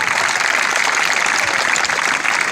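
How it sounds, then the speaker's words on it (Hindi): An audience at a school cultural festival applauds performers, with steady, even clapping at moderate loudness running throughout without a break. "मेरे इन भाइयों के लिए तालियां हो जाए जोरदार एक बार।"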